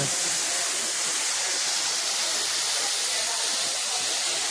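A small waterfall where people bathe, known as a mini falls at Huligemma Kolla, roars with a dense, steady wash of falling water, close and loud and unbroken throughout.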